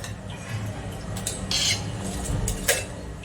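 A spoon stirs spices into buttermilk in a vessel, giving soft liquid swishing punctuated by a few light clinks against the sides.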